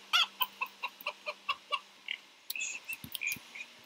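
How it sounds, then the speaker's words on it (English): Chickens clucking in the Minecraft Story Mode video game, a steady run of short, evenly spaced clucks followed by a busier, overlapping burst of fowl calls, clear and fairly close. "Chicken."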